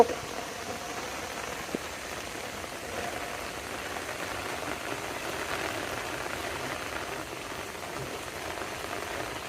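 A dense, continuous heavy downpour in a village during the rainy season hisses evenly, loud and close, with a faint low engine-like rumble beneath and no talking.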